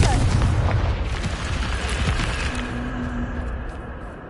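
A Confringo blasting spell in a Harry Potter video game erupts in a loud boom that rolls off into a low, fading rumble over several seconds.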